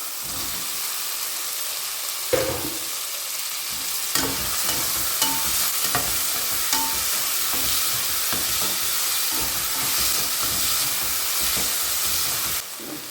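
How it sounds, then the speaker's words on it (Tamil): Tomatoes sizzle steadily in hot oil in a pan for a mutton gravy, a continuous frying hiss broken by occasional stirring scrapes and soft clinks. "இப்போ தக்காளியை சேர்த்து வதக்கிக்கலாம்"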